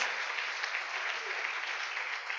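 A church congregation applauds in praise of Jesus during a service. The clapping is steady and fairly soft, a continuous patter heard on its own for a couple of seconds.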